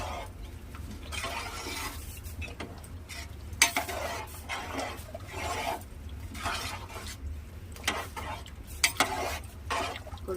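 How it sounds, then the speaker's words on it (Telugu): A spoon stirs rice in a cooking pot, scraping and clinking against the metal in irregular bursts with a few sharper knocks, close and fairly quiet, with no voices. "ఒకసారి కలిపి రైస్ వేసిన చూడండి, కలిపేస్తున్నా నేనైతే."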